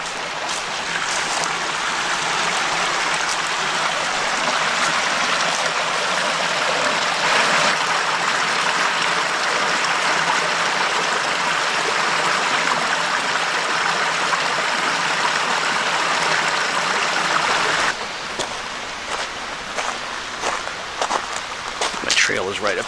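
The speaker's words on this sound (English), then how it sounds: "little tiny mini waterfall down there." Small forest waterfall and stream in a Pennsylvania natural area, a steady broadband rush of flowing water heard at a moderate distance, continuous throughout, with footsteps toward the end.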